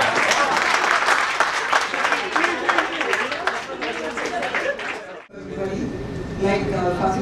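An audience at a school alumni reunion claps in dense, steady applause for several seconds, with voices chattering underneath, before it cuts to a thinner patch of clapping and crowd murmur.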